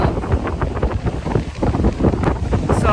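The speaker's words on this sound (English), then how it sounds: "It's a bit windy" Strong wind near a cave in Bali buffets the microphone in loud, gusty rumbles that rise and fall without a break, with no one speaking.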